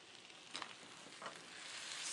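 Tomato paste and onions cooking in an olive oil skillet, a faint continuous sizzle with a couple of soft stirring scrapes.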